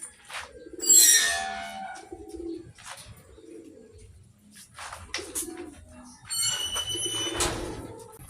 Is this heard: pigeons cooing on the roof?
yes